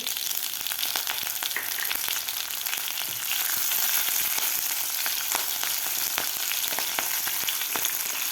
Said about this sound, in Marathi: आता यामध्ये घालायचे आपल्याला जिरे हिरवी मिरची